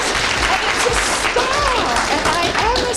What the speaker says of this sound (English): So please round of applause for Ms.